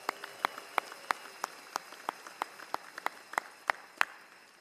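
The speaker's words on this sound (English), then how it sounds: "How about another round of applause for our choir?" Steady, evenly spaced claps ring out at a commencement for a choir, sounding like one or a few people clapping in a slow regular rhythm rather than a full crowd, fairly faint.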